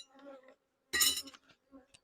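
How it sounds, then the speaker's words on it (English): Honeybees from a Pennsylvania nuc swirl in a brief, loud burst of buzzing while a hive frame feeder is pulled out, with quieter hum and faint clinks before and after. "All right, bees."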